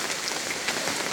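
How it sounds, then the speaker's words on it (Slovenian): Rain falls outdoors as a steady, dense hiss of drops hitting surfaces, even and unbroken throughout. "zdaj pa je res začel tak dež"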